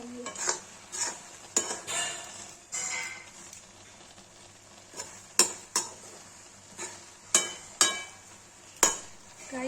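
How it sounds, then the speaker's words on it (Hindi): Carrot halwa with almonds and sugar is stirred and roasted in a pan, with a soft sizzle underneath and a series of sharp, loud spoon clinks and scrapes against the metal at irregular intervals. "अब इसको 10 मिनट तक भूनेंगे जब तक चीनी डाल के सूख हो जाए"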